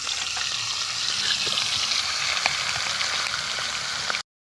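Fish heads frying in hot oil in a wok, a steady close sizzle with faint crackles and occasional stirring clicks, continuing alone until it cuts off abruptly at the end.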